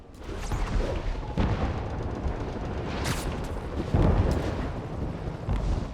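Rumbling thunder booms in the Marvel's Spider-Man PS4 game, broad low rolling crashes swelling near 1.5, 3 and 4 seconds over a dense continuous storm roar, loud and close throughout.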